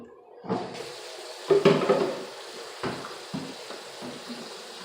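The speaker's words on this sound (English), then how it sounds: "Go over here and wash my hands." Water runs from a tap into a sink while hands splash and rub beneath it, with a few louder splashes and clatters, close by and fairly quiet.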